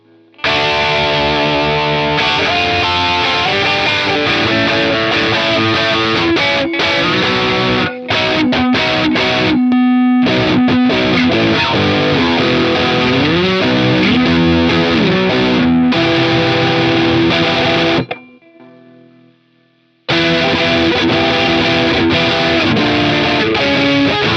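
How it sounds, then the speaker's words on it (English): A Fender Vintera 60s Jaguar Modified HH electric guitar with a crunchy British-style overdriven tone plays riffs and sustained chords, loud and close, with a brief pause near the end. "Shall we try like a standard British dirt sound?"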